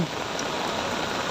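Steady rain pours down on a street, a dense, even hiss that fills the whole stretch without a break and with no voices over it.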